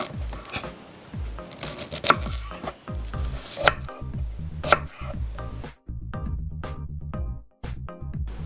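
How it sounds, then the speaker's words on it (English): A kitchen knife halving Brussels sprouts on a cutting board, a steady run of sharp, crisp chops and taps close up, each cut followed by a brief knock of the blade against the board. "And then with every Brussels sprout, just split it right down the middle."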